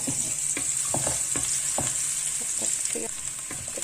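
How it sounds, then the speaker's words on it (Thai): Garlic stir-frying in a pan, a dense continuous sizzle with rhythmic scraping strokes of a spatula, close and fairly loud. "เราก็ผัดกระเทียมหอมแล้วก็ใส่ผักลงไปเลยจ้า"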